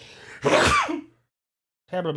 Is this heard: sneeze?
yes